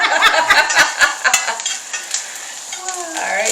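A ribeye steak is basted with butter in a hot pan, giving a loud, close sputtering sizzle broken by repeated spoon scrapes and clinks against the pan, with brief voices in the background.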